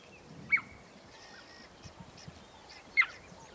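Cheetahs in the Namibian bush give two short, bright chirps, bird-like calls spaced a few seconds apart, heard at moderate distance over a low, steady outdoor background.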